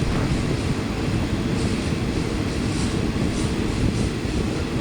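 A loud, steady rumble of express train 141, Bangkok to Ubon Ratchathani, departing Buriram station: a continuous low roar with no voices.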